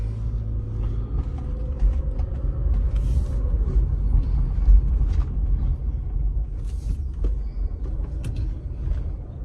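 A car driving on a test drive with a vehicle GPS tracking system in carjack mode, giving a steady low engine rumble with a faint whine and occasional creaks and rattles throughout.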